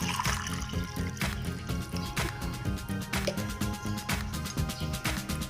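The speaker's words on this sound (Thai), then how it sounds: "เทน้ำใส่ไปในแก้วเลยนะคะ ให้เต็มแก้วเลยค่ะ" Water poured into a glass to fill it, part of a Thai home garden fertilizer mix, gives a steady trickling, dribbling liquid sound that runs continuously and fairly loud throughout.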